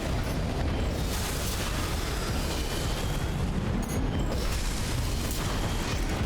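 Heavy cannon blasts in Armored Core VI, a dense continuous barrage of loud booming explosions and rumbling with no pauses and no voices.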